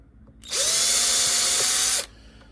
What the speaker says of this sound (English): I know how far the drill bit's going to go in just by the sound of it